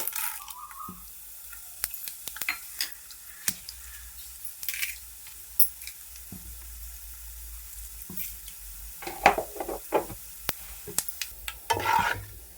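Tempering spices dropped into hot oil sizzle steadily, with scattered clicks and sharp taps of a spoon stirring in a metal pan, close and fairly quiet.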